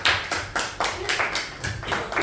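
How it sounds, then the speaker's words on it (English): Classroom applause from a group of students, a burst of brisk clapping that rises, dips and swells again in uneven waves, fairly close and alone with no voices. "Just give her a round of applause."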